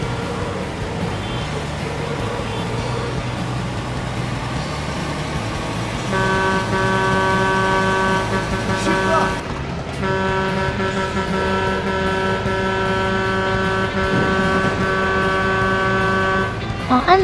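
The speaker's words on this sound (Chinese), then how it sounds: "按喇叭他们会闪开" In the Dreamcast truck-driving game 18 Wheeler, a truck horn blares in two long sustained blasts over rumbling engine and road noise.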